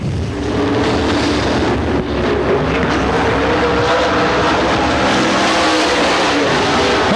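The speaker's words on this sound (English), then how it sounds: "Looking to squeeze just a tad bit more out of that number 17 car as he works it back to the stripe" The number 17 dirt track race car on a qualifying lap at Pennsboro Speedway roars loudly and continuously, its engine drone blending with heavy wind buffeting across the whole stretch.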